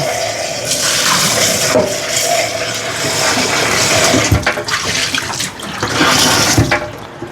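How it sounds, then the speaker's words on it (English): A cooking pot is rinsed out at a sink, with a strong, steady rush of running tap water splashing and sloshing close by, shifting slightly in tone as the pot moves. "Rinse the pot out."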